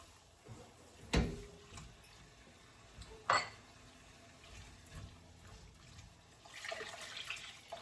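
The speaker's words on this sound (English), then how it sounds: "And I'm going to add the broth." Broth is poured into a pot of chickpea stew with a soft, faint liquid trickle, broken by a couple of sharp clinks of a utensil or container against the pot.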